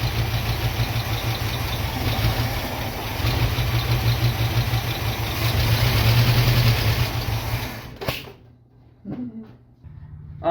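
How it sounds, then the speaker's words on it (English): International Scout engine idling just after being brought back to running, a rough, loud low rumble that holds steady for about eight seconds and then cuts off abruptly, leaving a few faint knocks. "Look at there, she's idling."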